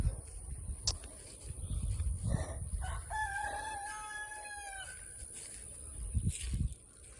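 Outdoors among chickens being let out, a rooster crows one drawn-out call near the middle while hens cluck around it, with thumps and rustling close by.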